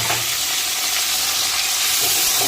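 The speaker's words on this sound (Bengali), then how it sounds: "কুচিয়ে রাখা গাজর, ক্যাপসিকাম আর পেঁয়াজ কুচি দিয়ে দিলাম।" Chopped chicken, carrot, capsicum and onion hitting hot oil for chicken chow mein, giving a loud, dense, continuous sizzle and hiss with no pauses.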